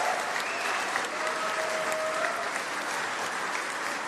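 Audience applause at the Golden Joystick Awards 2025 for the musical guests: dense, steady clapping from a large crowd that holds evenly for about four seconds, with no voices over it.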